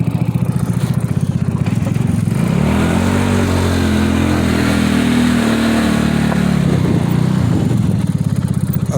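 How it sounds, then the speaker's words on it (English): A Trailmaster 150XRS buggy's small engine revs steadily while riding, a loud, continuous buzzing drone that rises and falls in pitch with throttle changes. "Let's take this buggy for a ride."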